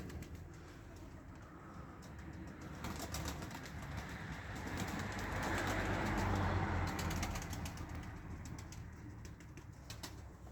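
Pigeons cooing in a loft or yard, soft low repeated coos under a steady bed of noise, with scattered clicks and flutter-like bursts rising to a louder stretch midway.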